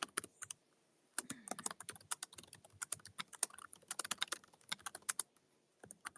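Rapid bursts of computer keyboard typing, crisp close-up clicks in uneven runs with brief pauses between them, quiet and alone.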